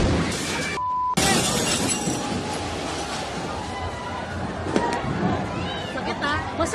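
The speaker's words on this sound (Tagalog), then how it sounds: "Umalingaw-ngaw ang napakalakas na pagsabog" On New Year's night just after midnight on Nara Street in Tondo, Manila, a powerful explosion bursts with a loud crack and shattering glass, followed by a crowd's agitated voices and commotion.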